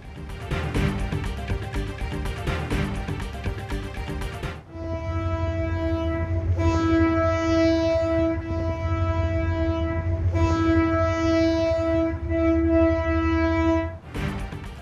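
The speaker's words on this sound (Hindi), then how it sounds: "बरसों के बाद केसीआर ट्रैक पर रेलगाड़ी दौड़ना शुरू।" Karachi Circular Railway local train on its trial run, with a loud, sustained horn blaring for about ten seconds, cut briefly once, over the heavy rumble of the running train, close and powerful.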